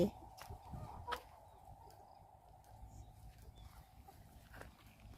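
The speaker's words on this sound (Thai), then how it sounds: "อันนี้ก็เป็นไก่ไข่ห้าสิบโต" A flock of about fifty free-ranging laying hens on a farm gives faint, scattered clucks over low ambient noise, with a louder call near the start and another toward the end.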